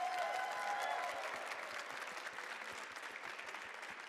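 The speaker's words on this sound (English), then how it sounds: "So big round of applause." A large crowd at a Bandai card game tournament livestream applauds, steady dense clapping that holds across the whole stretch, fairly even and distant-sounding.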